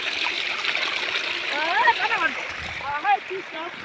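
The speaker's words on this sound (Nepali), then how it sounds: "फाइनली झरना आइपुग्यो" Steady rushing water pours continuously from Namaste Waterfall in Dharan, with a person speaking briefly over it.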